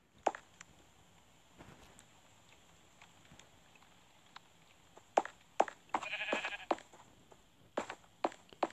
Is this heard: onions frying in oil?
no